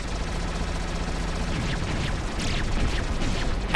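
Gunfire in the video game Ar Tonelico crackles as a steady, dense barrage for several seconds beneath a continuous noisy wash, with sharper bursts toward the end.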